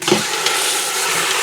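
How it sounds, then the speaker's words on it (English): A corned beef brisket browns in a pressure cooker, giving a loud, steady sizzle and hiss from close by, with a brief stir or shift of the meat at the start. "while my corned beef brisket finishes browning"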